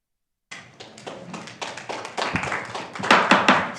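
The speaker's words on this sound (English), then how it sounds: "Stop applauding, please." Audience at a town council meeting breaking into applause: clapping starts abruptly after a brief silence, begins sparse and separate, then thickens and grows louder as more hands join, fairly close and dense by the end.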